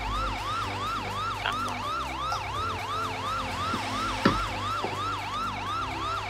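Emergency vehicle siren in the GTA 5 video game during a firefighting roleplay, a loud, fast wailing yelp cycling steadily and evenly throughout, over a low engine hum, with a couple of brief knocks and no talk.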